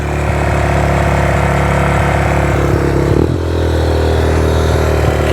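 A Yamaha Raptor 125 ATV engine with a faulty high idle runs loud and close, holding a fast, steady idle with a brief rev and dip midway before settling back.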